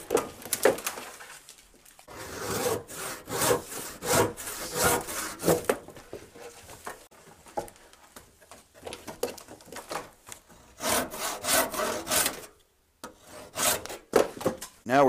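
Wood is sawn by hand while making wooden holdfasts, a close rasping rub of repeated strokes in bursts with short pauses between them.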